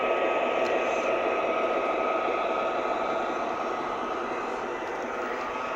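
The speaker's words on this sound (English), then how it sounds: "Let me turn off that ceiling fan." A running ceiling fan gives a steady, even broadband whoosh with a faint hum, holding at a constant level with no pauses or changes.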